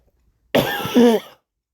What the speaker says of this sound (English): I coughed up a hairball or something.